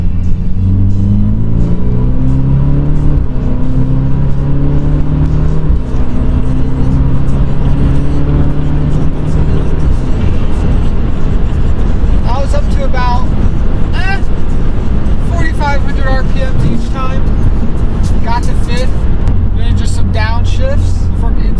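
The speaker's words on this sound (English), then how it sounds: "We're just gonna do an acceleration from inside." A BMW F chassis with a Valvetronic exhaust accelerates, heard from inside the cabin: a deep engine rumble climbs in pitch through the gears, then settles into a steady road drone as voices talk over it.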